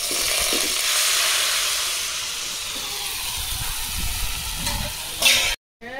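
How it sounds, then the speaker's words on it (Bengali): Chow mein noodles hitting hot white oil in a wok, setting off a loud, steady steamy sizzle and hiss that fades slightly before a brief clatter and sudden cutoff near the end. "তেলটা গরম হয়ে গেছে, তেলের মধ্যে চাউমিন দিয়ে দেবো।"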